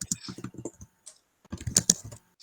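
Rapid clicking keystrokes on a computer keyboard come in two bursts with a short pause between, close and crisp, and a voice talks in the background.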